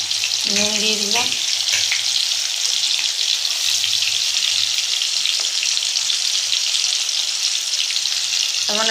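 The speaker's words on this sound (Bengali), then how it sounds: "এবার আলুটা ভাজা দিয়ে দিচ্ছি কড়াইতে।" Potato pieces fry in hot oil in a kadai for a vegetarian cabbage dish, with a loud, steady sizzle and a few stirring scrapes throughout.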